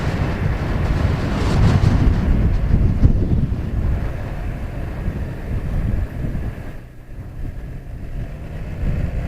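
A 2019 Can-Am Ryker three-wheeler at full throttle, its engine a loud, steady low roar mixed with heavy wind buffeting, easing briefly near the end before picking up again.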